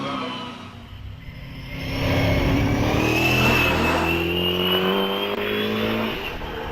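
A Brabham race car climbs Prescott hillclimb, its engine note rising and falling through gear changes as it revs hard, growing louder as it approaches and then easing off, with no voices over it.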